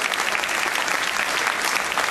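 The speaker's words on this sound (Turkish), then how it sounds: "Herkes bir kendisini alkışlar mı, çok sevinirim." Audience at a political event for a mayoral candidate in Akhisar breaking into dense, loud, sustained applause, a continuous wash of many hands clapping with no talk.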